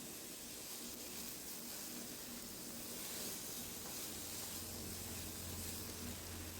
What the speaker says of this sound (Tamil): கடுகு பொரிஞ்சோடனே முடக்கத்தான் கீரையை எண்ணெயில் போட்டு நல்லா வதக்கணும்.